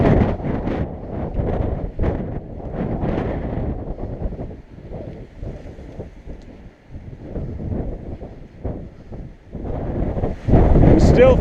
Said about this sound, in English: And it's such a strong wind.